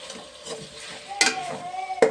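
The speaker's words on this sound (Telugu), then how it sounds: "అల్లం వెల్లుల్లిపాయ పేస్ట్ అండ్ మసాలా వేసి మంచిగా ఫ్రై చేసుకోవాలి" Onions, chilies and chicken with biryani spices fry in a pan, a faint sizzle under a few sharp metallic clanks and scrapes of a stirring spoon against the pot.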